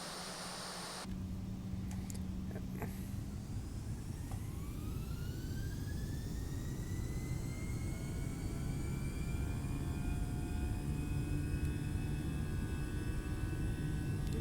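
The twin jet engines of an A319 spool up for takeoff in Microsoft Flight Simulator 2020, a rising whine climbing steadily in pitch over a continuous roar, with no talk.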